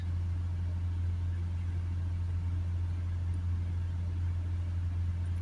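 A Vauxhall Vivaro 1.6 diesel van with an inlet air and particle filter fault holds at steady raised revs, producing a constant, close, even engine drone with a strong low hum that barely changes.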